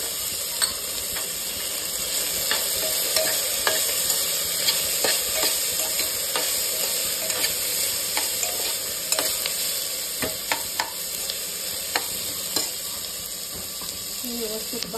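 Peanuts and chana dal roasting in a hot pan give a steady sizzle, with frequent scrapes and clicks from stirring throughout. A faint voice sits low underneath.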